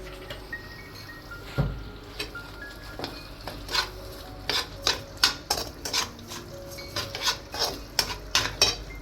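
Prawns are mixed and spread with a little olive oil in a pan, a close series of rhythmic metal scrapes and clinks from a utensil against the pan over a soft sizzle, with no one talking.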